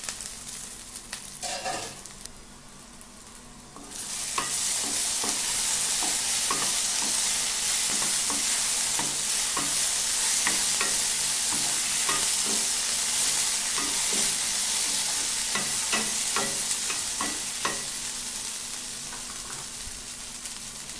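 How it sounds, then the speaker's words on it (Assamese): French beans and potato pieces are stir-fried in a pan, with sharp scraping and tossing clicks over a loud continuous sizzle that starts after a short quieter opening. "ভালকৈ লৰাই দি এতিয়া ঢাকনিখন দি দিম।"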